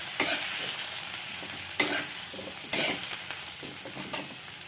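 Fried onion with fresh coriander and peanut powder is stirred in a pan: a soft background sizzle broken by several sharp scraping and clinking strokes of a spoon against the metal, coming in an irregular rhythm.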